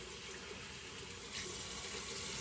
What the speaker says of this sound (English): I splay the brush like this and just rinse it with the water running on it